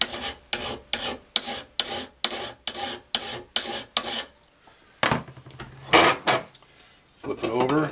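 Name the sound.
hand file sharpening a lawnmower blade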